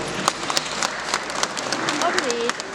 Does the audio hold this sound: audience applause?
yes